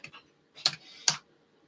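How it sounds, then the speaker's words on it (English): Worn-out computer keyboard being typed on, a few sharp isolated clicks, quiet and close with pauses between presses. "my keyboard is dying"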